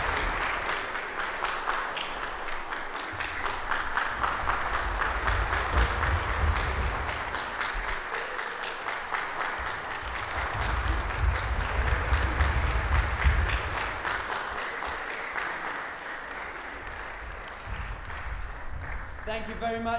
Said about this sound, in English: So give them a loud round of applause for the performers of PEMA, LINGPA, Rinpoche.